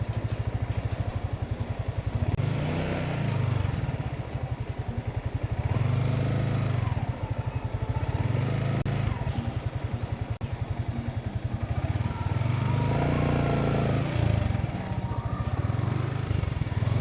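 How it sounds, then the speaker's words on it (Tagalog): A motorcycle rides steadily along a rough road near a school in Agoncillo, Batangas, its engine droning loudly and continuously with rattles and clatter from the bumpy surface throughout. "Pero kaya naman ito ng motor ko."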